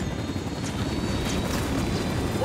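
A chopper in a tactical shooter game roars close and steady, its heavy rotor wash forming a dense, unbroken rumble that stays loud for the whole stretch.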